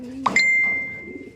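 Young pigeons in an aviary give a short call, a brief soft note followed by a sustained ringing tone, heard close and fairly quiet.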